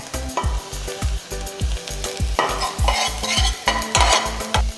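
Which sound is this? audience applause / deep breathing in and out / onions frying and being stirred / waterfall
onions frying and being stirred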